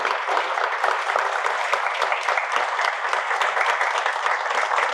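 Steady, even audience applause honoring an honoree standing up, dense and continuous clapping at moderate loudness with little talk.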